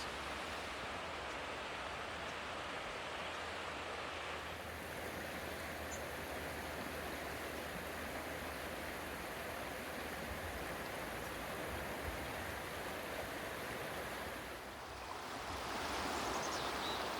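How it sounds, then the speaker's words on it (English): Steady broadband rush of Thunder Creek flowing past a gravel bar in the North Cascades, a continuous close water roar with no voices, brightening slightly near the end. "let's go down to the river"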